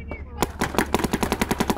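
A Dye M2 paintball marker fires a rapid, steady stream of sharp shots while the trigger is held, loud and close.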